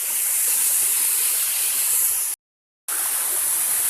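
Pulosari Waterfall, about 3 to 7 meters high, pours in a steady broadband rush of falling water, loud and close, with a brief silent gap partway through.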